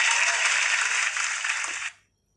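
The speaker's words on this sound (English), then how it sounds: "Clap for those who have given correct answer." Students in a classroom quiz break into a short burst of dense clapping. It is loud and close, lasts about two seconds and then stops abruptly.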